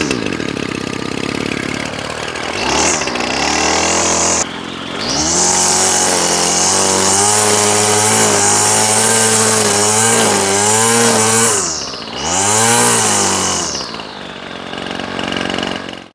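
A Ryobi Grass Scorpion two-stroke line trimmer, fitted with new fuel lines, runs loud and close: a high buzzing whine that climbs and falls as the throttle is blipped repeatedly, steadying into a sustained high rev before dropping back to idle.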